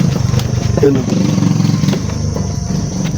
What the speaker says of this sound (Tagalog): May dumadaan ng motor.